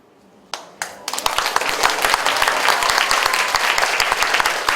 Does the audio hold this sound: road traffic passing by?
no